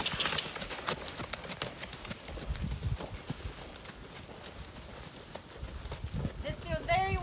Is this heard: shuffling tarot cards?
no